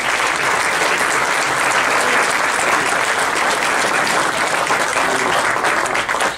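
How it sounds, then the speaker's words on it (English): Dense, steady applause from a room full of people at a Republican Party event, loud and sustained without a break and with no voices over it. "Go ahead and give yourselves a round of applause."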